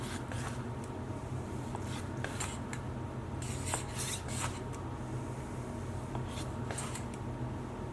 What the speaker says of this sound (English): We're just going to cut it into nice thin strips like so.